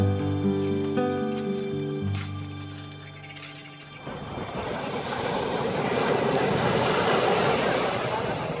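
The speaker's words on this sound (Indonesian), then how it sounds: "Suara debur ombak yang menenangkan jiwa." Ocean waves break on the white sand of Tanjung An beach in Lombok, a broad rushing wash that swells in after a stretch of tonal music and then rolls on steadily.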